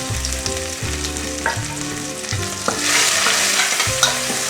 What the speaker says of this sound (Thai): ใส่น้ำมันลงไปนะครับกระทะเดือดแล้วนะครับเราก็ใส่พริก